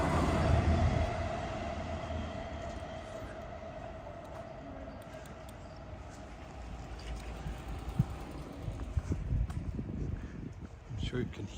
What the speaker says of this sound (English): I'm sure you can hear that we are very close to the train tracks.